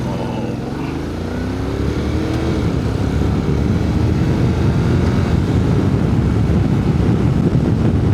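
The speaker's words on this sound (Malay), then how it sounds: "Patut angin terasa begitu kuat sekali." Strong wind buffeting from riding a motorcycle with the windshield down, a loud, steady broadband roar with low rumble throughout, mixed with engine drone.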